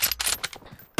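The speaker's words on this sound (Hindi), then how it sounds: "ये पड़ा है बॉडी शॉट" Kar98 bolt-action rifle fire in a PUBG Mobile team deathmatch: a short burst of sharp cracks and a scuffle of game noise, then a brief quiet before another sharp shot at the very end.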